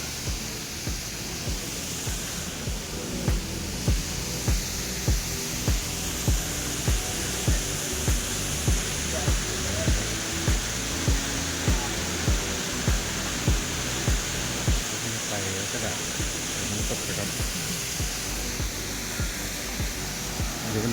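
Tat Ton waterfall in Chaiyaphum, Thailand, over broad rock ledges in strong early-April flow, pours as a steady, loud, broadband rush of falling water with no voices, continuous from start to finish.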